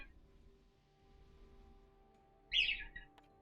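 A bird-like creature in a video game gives a single bright chirp near the end, standing out above a faint, quiet outdoor background.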